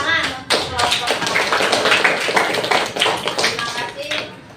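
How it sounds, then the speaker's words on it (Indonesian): A classroom of pupils applauds after a group's role-play, dense close clapping that swells and continues steadily for several seconds, with a voice briefly audible at the start. "Tepuk tangan untuk kelompok 1"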